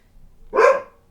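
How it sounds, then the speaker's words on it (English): A single sharp dog bark rings out, close and loud, brief and isolated against a quiet background. "There's the dogs."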